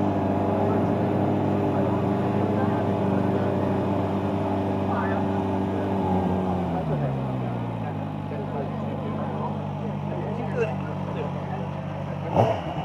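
A QJMOTOR SRK 450 motorcycle engine runs close by at a steady idle and then drops in pitch as the rider pulls away, with people talking over it at a factory in Taizhou, China.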